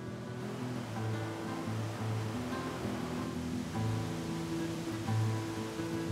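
Iguazu Falls on the Argentine side, surrounded by forest, sends out a continuous broad roar of falling water, loud and unbroken from start to finish, with no one speaking.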